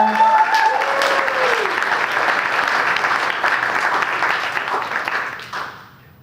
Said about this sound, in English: Let's give Alan a big round of applause.